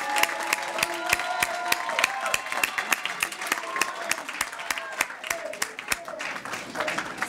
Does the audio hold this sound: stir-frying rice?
no